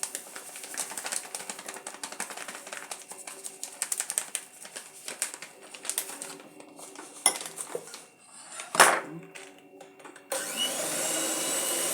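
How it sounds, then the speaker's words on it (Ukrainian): A cream mixture is whipped in a bowl, heard as uneven rattling and clinking beaters against the bowl, followed near the end by a steady whirring mixer drone. "Це все треба буде збити до вершків."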